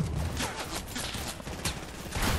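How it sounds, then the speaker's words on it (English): Gunfire in Fortnite, a rapid scattered string of shots blending into a dense rolling crackle, moderately loud and somewhat distant, with no talk over it. "Where are those shots coming from?"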